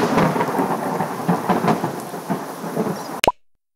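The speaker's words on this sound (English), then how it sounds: "Loud thunder, lightning, and heavy rain." A thunderstorm with heavy rain hissing steadily and deep rumbling thunder rolling through, loud and close, before a sharp crack of thunder and an abrupt cut to silence.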